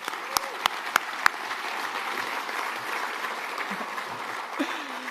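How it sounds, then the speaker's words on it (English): Applause breaks out for a group of volunteer firearms safety instructors at a political campaign launch event: a steady wash of crowd clapping over several sharp individual claps at the start, sustained throughout. "they need an applause if they're here"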